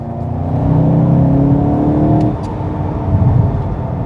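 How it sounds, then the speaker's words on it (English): A Volkswagen Golf GTI hot hatch engine revs up loudly and steadily with a deep tone, then the note drops off with a few crackling exhaust pops as the revs fall. "there's pops and bangs from the exhaust"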